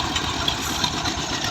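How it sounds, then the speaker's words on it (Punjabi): Steady engine of a concrete mixer mixing cement, sand and coarse and fine gravel at a house construction site, idling with a continuous low rumble and fairly even loudness, close by, with no talk. "ਇੱਕ ਇੰਜਣ ਇੱਧਰ ਲੱਗਾ ਵਾ"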